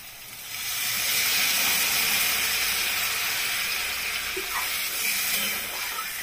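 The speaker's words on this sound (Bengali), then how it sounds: "এই অবস্থায় আমি জল দিয়ে দিব।" Water poured into fried spice masala in a pan for bacha fish curry gives a loud rushing hiss and steady bubbling that starts suddenly and holds throughout.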